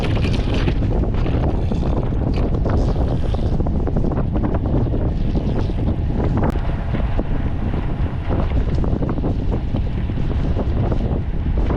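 Steady, loud wind roars across the microphone, with the rush and slosh of water beneath as a sailing boat moves through it in the Netherlands.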